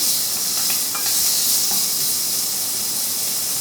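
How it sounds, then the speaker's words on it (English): Bacon cooking slowly over medium heat in a preheated pot, giving an even, steady sizzle and hiss that stays close and fairly loud without pause. "We're gonna cook it slowly, and we're gonna get all the fat from the bacon."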